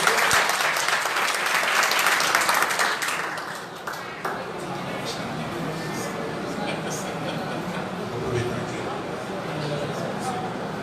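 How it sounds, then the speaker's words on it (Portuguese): A church congregation applauds, loud, dense clapping for the first few seconds that thins into scattered claps and room noise, with voices heard alongside. "As palmas louvam ao Senhor,"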